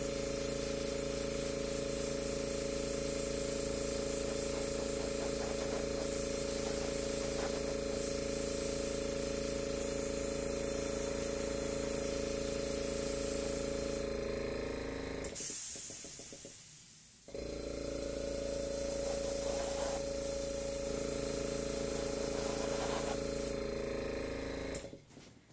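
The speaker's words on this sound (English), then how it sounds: "I really gotta learn how to turn my airbrush down." An airbrush spraying paint onto canvas produces a loud, steady close hiss with a constant tonal hum beneath. It cuts out briefly around the middle, then resumes until near the end.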